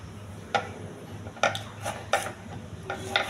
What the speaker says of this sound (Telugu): పొట్లకాయ శుభ్రంగా కడిగి రౌండ్గా కోసుకోవాలి మనకు నచ్చిన సైజులో.